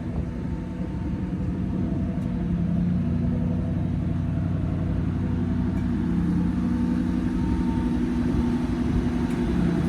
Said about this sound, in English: As you can tell, it's the V8 motor.